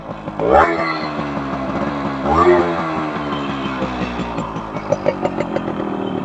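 A 1989 Yamaha RX100 two-stroke motorcycle fires up after a kick start, with two loud surges of revving before it settles into a close, uneven, popping idle.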